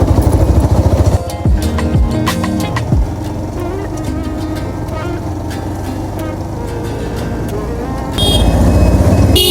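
A Bajaj Pulsar 150 SD motorcycle rides through town traffic in Rangpur, its engine a loud continuous drone with wind rush close to the microphone, a brief drop in level near the middle, and no speech.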